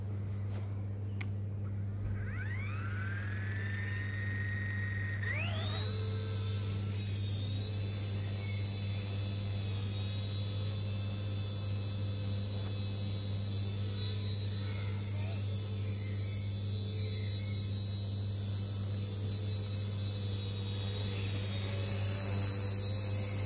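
An RC ERA C138 Bell 206 model helicopter lifts off. Its electric motor whine climbs sharply in pitch at about two and five seconds, then holds as a loud, steady, close-up high drone over a low hum.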